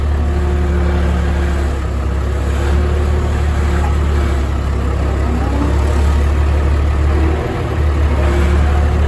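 A large farm tractor engine runs steadily and loudly nearby, giving a continuous low rumble and drone throughout with no pauses and no talk.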